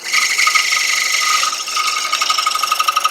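A wood gouge cutting texture into a turned platter on the lathe, making a continuous buzzing, ratcheting scrape that dips briefly midway and then resumes as a rapid, pulsing chatter.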